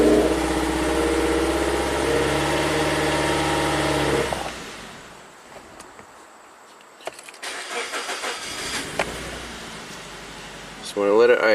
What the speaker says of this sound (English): Just want to let it idle, and it stalls out